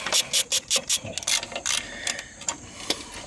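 A ratchet turning out 14 mm transmission cross member bolts on a 2002 Xterra 4x4, quick bursts of clicking pawl strokes close up, several short runs in a row.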